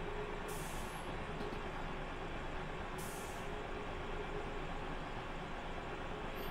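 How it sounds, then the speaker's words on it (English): Train emergency brakes in Train Simulator on the Riviera Line, a loud continuous rumbling hiss that holds steady throughout, with two brief higher squeals near the start and middle. "I think now is probably a good time for some of those emergency brakes"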